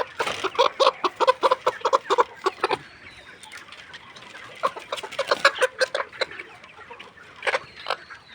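A chicken with watery, runny eyes on a poultry farm clucks in repeated short bursts, with a lull in the middle before the clucking resumes, fairly close and without speech.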